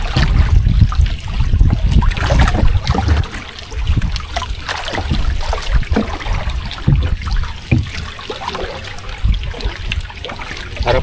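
Waves slap and rush around a small fishing boat out at sea during the northeast monsoon, with steady wind buffeting the microphone and loud, irregular water splashes throughout, no voices.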